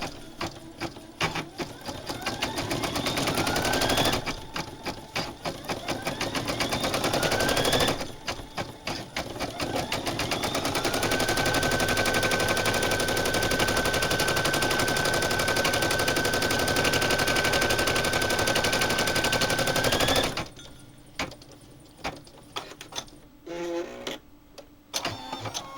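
Sewing machine running an applique foot to satin stitch fabric applique for quilting, a loud rapid mechanical rattle in long runs with brief pauses, ending in scattered short bursts and clicks.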